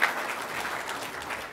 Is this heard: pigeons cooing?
no